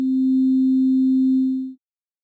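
Sonic Pi synth playing a single pure, steady tone shaped by an ADSR envelope with a one-second sustain, holding at full level for well over a second before fading quickly to silence.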